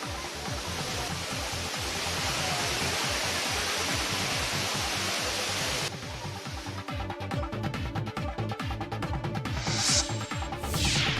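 A roaring waterfall at Kumbakkarai, swollen after rain, pours in a loud, continuous broadband rush; after a cut the torrent continues with slightly rougher, churning texture and a faint high tone near the end.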